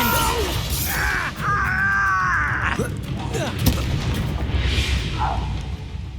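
Bombarda spell explosions from Hogwarts Legacy go off as repeated booming blasts amid a dense, busy battle soundscape with crackling magic and voices talking throughout.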